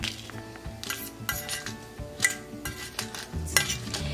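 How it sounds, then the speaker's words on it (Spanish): Chile browning on both sides in hot oil in a pan while making a Chihuahua-style fish and shrimp broth, with steady sizzling under frequent clinks and scrapes of a utensil against the pan, close and fairly loud, no speech. "Lo vamos a estar dorando de los dos lados."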